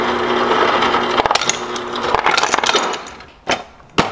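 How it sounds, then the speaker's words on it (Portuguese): Ice cubes tumbling from a refrigerator door dispenser, a clattering, crackling rattle of hard pieces that starts busy and near, then thins out into a few separate sharp knocks toward the end. "Saindo direto da geladeira. E gelo também."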